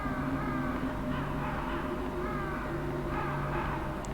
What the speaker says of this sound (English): Lots of birds.